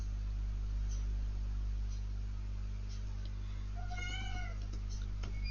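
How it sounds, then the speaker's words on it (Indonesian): A cat meows once briefly, fairly faint, over a steady low electrical hum, heard near the end of a quiet stretch. "ada kucing"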